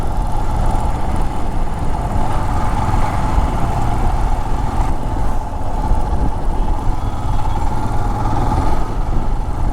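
A motorbike engine drones steadily while riding along a coastal road lined with casuarina forest near the beach, with a constant rumble and wind-like noise and no talking.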